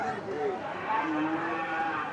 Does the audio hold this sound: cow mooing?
yes